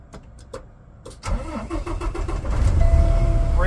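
A truck's engine starts up during an air brake and pre-trip inspection. A few faint clicks come first, then the starter cranks and the engine catches and settles into a loud, steady idle.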